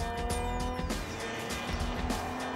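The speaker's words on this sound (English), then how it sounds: "It had looked as if the number 4 Talbot 105 G052 of Gareth Burnett, Jason Bronson and Alex James would win overall" Vintage race cars lapping at the 2010 Le Mans Classic, engines roaring steadily with one car sweeping past and fading, a continuous loud mechanical drone without talk.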